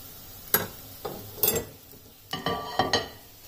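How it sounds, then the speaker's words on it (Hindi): A potato pancake fries in a pan with light sizzling, broken by several sharp clinks and scrapes of a utensil against the pan in uneven bursts, close and moderately loud. "अब इसकी दूसरी साइड को भी गोल्डन ब्राउन कलर होने तक फ्राई होने देना है।"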